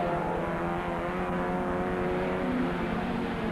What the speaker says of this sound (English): an enormous gaggle of motor cars on the back straight